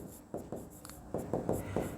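Short, quick strokes of writing on a board during a maths lesson, a series of close scratchy taps in an uneven rhythm with no talking.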